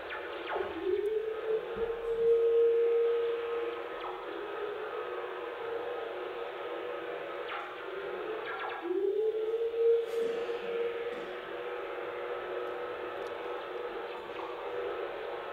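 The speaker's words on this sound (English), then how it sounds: "the whistle, the pium sort of noise of the initial whistler, and then you hear this woo sort of ghostly proton whistler afterwards" Radio recording of lightning-triggered whistlers: a hissy static wash with two gliding tones, each a brief sweep settling into a long eerie held whistle, ghostly and steady, no voices.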